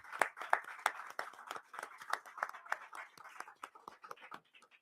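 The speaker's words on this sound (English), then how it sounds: "Let's give Utica a round of applause." Scattered hand clapping from a small audience after a speaker's call to applaud Utica at a New York State reparations commission hearing, sharp uneven claps that thin out and fade toward the end.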